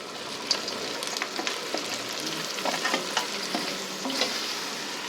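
Onions and pre-cooked mutton fry in a kadai with a steady broadband sizzle, broken by the irregular scrape and clatter of stirring. The sound is close and fairly quiet, and nobody speaks.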